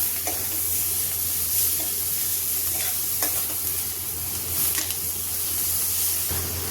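Vegetables and tomatoes sizzle and crackle steadily in a hot pan, with occasional stirring scrapes close by; no one speaks.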